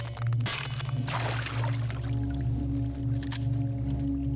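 Splashing and squishing footsteps of a character wading through water in a horror game, a wet sloshing that repeats steadily over a constant low hum, with no talking.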